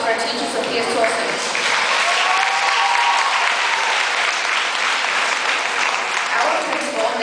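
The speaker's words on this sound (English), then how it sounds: "let's have a round of applause for our teacher, Sophia Torsen" Audience applause for a teacher at a school gathering, sustained even clapping from a large crowd with some voices mixed in.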